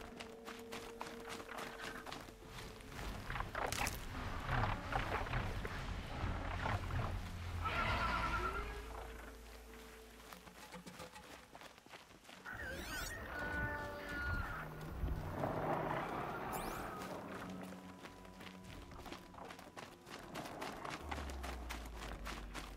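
Riding a machine mount across the world of Horizon Zero Dawn: steady running hoof-like clatter with whinnying cries and mechanical accents, a continuous moderately loud bed over ambient game music, with no talking.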